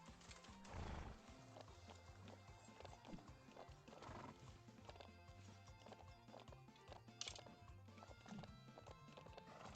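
Steady clip-clop of horse hooves at a canter in the Ranch of Rivershine video game, a rhythmic, close, moderately quiet gait with occasional neighs and whinnies over faint game background sounds.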